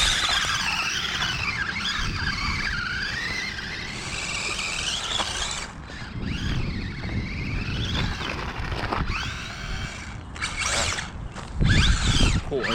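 A pickup truck fishtails in snow as the throttle is pressed, its engine revving and wavering in pitch over continuous tyre-spin whine and churning, with brief gaps and a voice talking over it.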